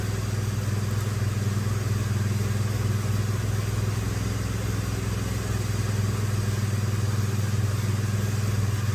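Engine of a 2007 Mitsubishi Outlander that is hard to start after refueling, idling steadily with a constant low hum and a faint mechanical clatter, no voices over it.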